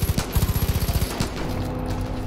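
Rapid automatic gunfire in the Far Cry 5 video game: a fast, even burst of about a dozen close shots, then scattered distant shots fading into a background rumble.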